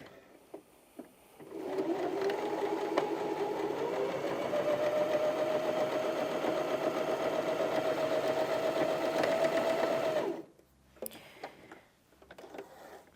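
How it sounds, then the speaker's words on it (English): A Janome HD2200 sewing machine with a jeans needle runs a longer straight stitch through thick fabric, giving a steady close whir for about eight seconds before stopping, followed by a few light clicks. "So we're just going to sew a standard straight stitch."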